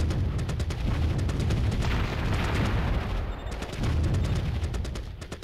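Gunfire rattles continuously in the Warzone 2100 strategy game, with dense rapid bursts and heavy booming impacts layered into a loud, sustained barrage aimed at scavengers.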